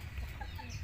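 Farm chickens being hand-fed snacks give soft, low clucks in a steady murmur, fairly faint and continuous with no voices.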